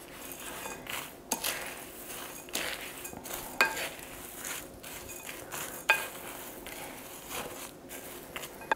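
Granola ingredients (oats, sunflower seeds, pumpkin seeds and salt) being stirred in a bowl with a utensil, giving soft rustling scrapes and occasional light clinks against the bowl, quiet and intermittent.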